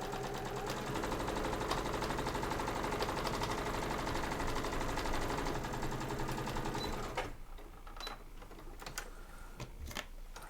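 A sewing machine runs steadily while stitching the lining of a cross body bag, a loud, continuous mechanical whir for about seven seconds before it stops, followed by a few faint handling clicks.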